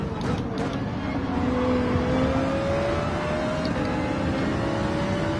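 A Ferrari GR3 race car accelerating in Gran Turismo 7 at Watkins Glen, its engine holding a steady rising whine close and loud, without speech over it.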